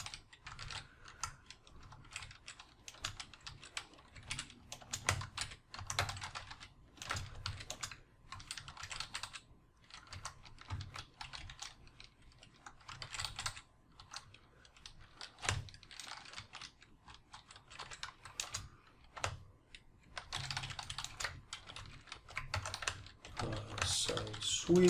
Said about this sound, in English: So I can type in some information here